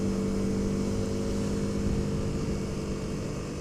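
Engine of a 2021 Honda CRF300L motorcycle with about 13,000 km on it while riding, a steady loud drone with a strong low hum and continuous wind noise, no voices.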